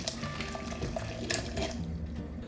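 Whey from homemade cream cheese poured from a pot through a sieve, a trickling, splashing stream of liquid with a few brighter splatters, close by and unaccompanied by voices.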